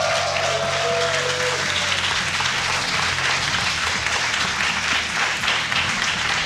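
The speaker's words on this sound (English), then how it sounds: "Oh my God, such a loud crowd today." A large crowd at a StarCraft 2 WCS Europe tournament semifinal roars and applauds loudly and without a break, a thick, continuous wall of cheering and clapping that fills the hall.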